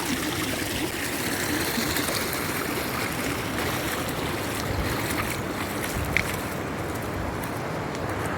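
Water flows across a flooded rice paddy field with a steady, broad rushing wash that stays even and fairly close throughout, with no voices.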